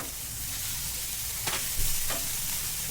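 Onion, curry leaves and ginger-garlic-chili paste sauté in hot oil with cumin and mustard seeds, a steady close sizzle with a few sharp scraping stirs of a spoon.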